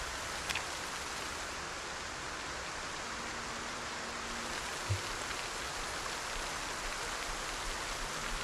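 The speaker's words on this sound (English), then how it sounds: "You gotta listen to all of this rain." Steady, dense rain pours in the video game Project Zomboid, a constant hiss of falling water heard alone with a faint low thud near the middle.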